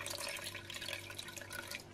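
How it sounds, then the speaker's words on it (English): Water being poured into a blender jug while making a keto breakfast, a faint, steady splashing trickle that runs continuously for a couple of seconds with no voice over it. "just got final 1/4 cup of water going in"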